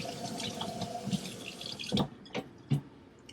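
Water from a kitchen tap runs and splashes over nopales (cactus paddles), a soft continuous trickle with a few sharper splashes and drips toward the end.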